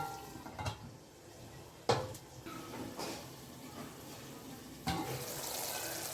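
Bengali-style koi fish fry in oil in a pan covered with a lid, giving a soft continuous sizzle broken by a few sharp clanks of a utensil or lid nearby.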